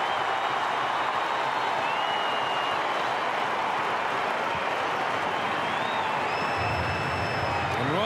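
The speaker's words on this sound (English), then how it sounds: "Suddenly, this healthy crowd getting a little more animated" Football crowd at St Kilda v Brisbane, AFL Round 15 2023, a constant wash of stadium noise and clapping swelling a little, with a commentator talking over it and whistle-like tones drifting through.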